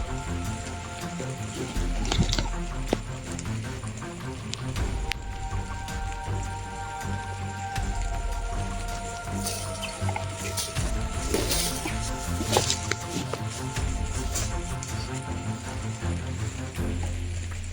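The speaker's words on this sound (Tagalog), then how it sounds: "Lakas ng ulan na." Heavy rain falls steadily, a dense continuous hiss with scattered drips and patters on surfaces, holding at a moderate level throughout without voices.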